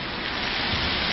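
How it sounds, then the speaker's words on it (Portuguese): Very heavy rain pours in the Ceilândia area of the Distrito Federal, Brazil, a dense, loud, unbroken hiss of water alone, with no voices. "Chuva realmente muito forte"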